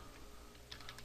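Faint, quick keystrokes on a computer keyboard during Excel formula entry, a short burst of soft clicks clustered near the end, alone with no talk.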